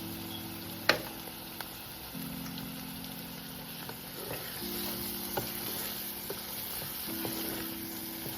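Spices and prawns sautéing in a pan for prawn biryani make a steady, close sizzle throughout, broken by a few faint clicks of stirring against the pan, with a low electrical hum underneath.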